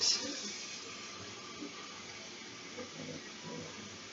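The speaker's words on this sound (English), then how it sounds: "I'm going to add some water into this here really quick." Water runs into a pot of pasta from a tap, a soft, steady stream heard fairly faintly, with a brief louder splash at the start and a few light clinks along the way.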